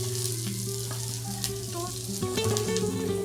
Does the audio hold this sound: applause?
no